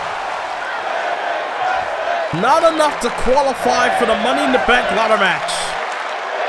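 Arena crowd noise with scattered applause in a Hartford women's wrestling match from WWE 2K23, a steady roar that continues as a commentator talks over it.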